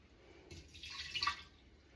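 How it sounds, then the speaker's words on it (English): Water pours from a pitcher into a sprouting jar holding seeds, a short close trickle and splash building in the middle and fading out, with no talking. "So we're going to use 6 tablespoons of water."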